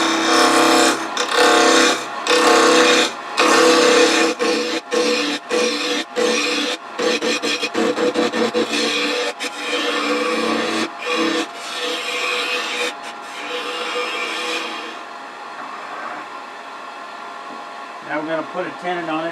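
A woodturning gouge cuts a small wooden ornament finial spinning on a lathe at about 2,000 RPM, giving loud bursts of rough scraping and hissing that stutter on and off, then settle into a softer whir while someone talks.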